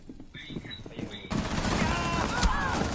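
Gunfire in a PS4 shooter: a quiet stretch with faint tones, then from about midway a dense, continuous burst of rapid shots, loud and close, blending with background game noise.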